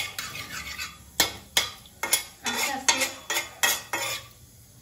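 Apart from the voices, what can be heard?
nigella seeds (kalo jeera) frying in oil, stirred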